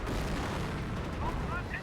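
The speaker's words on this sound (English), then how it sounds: "These mortars and incendiary grenades being thrown." Mortar and incendiary grenade fire in Company of Heroes make a dense, continuous rumble of distant booms and crackling blasts, a steady wash of battlefield noise with no single clear impact standing out.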